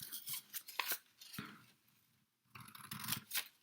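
Scissors cut through folded paper for a paper rose, giving several close, crisp snips and scraping strokes in short bursts separated by a brief pause.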